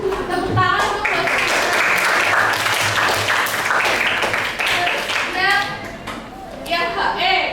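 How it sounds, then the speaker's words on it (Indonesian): Classroom applause for a student who answered correctly, a group of schoolchildren clapping loudly and steadily with some children's voices mixed in, tapering slightly near the end. "Tepuk tangan untuk Mas"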